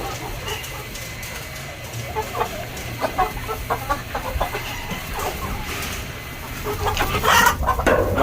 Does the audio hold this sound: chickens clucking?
yes